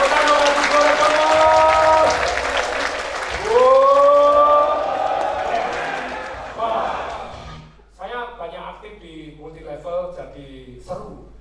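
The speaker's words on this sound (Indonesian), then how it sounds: "Tepuk tangan untuk Bapak Ibu semua" A seminar audience of people claps and cheers loudly, with excited shouting voices riding over the applause before it thins into scattered calls and chatter.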